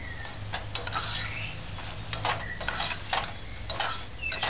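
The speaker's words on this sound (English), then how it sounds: "Do as you see me doing and stir in and stir in." Seasoned chicken with soy sauce, dried herbs and salt is stirred in a pot on a medium-low stove, giving repeated scraping and clinking strokes over a steady soft sizzle, close and moderately loud.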